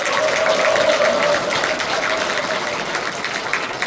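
An audience at a lawmaker's community report meeting in Cheongju claps in a dense, steady wash of applause that fades slightly over a few seconds, with a faint tone running through the first part.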